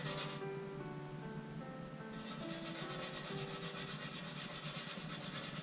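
A toothbrush scrubs a stove grate clean in steady, close, rhythmic rubbing strokes, a soft abrasive scratching that continues without pause and with no talk.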